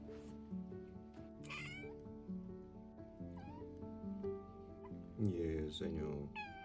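A rescue kitten with FIV meows at a vaccination, giving a few sharp close cries over a person talking steadily.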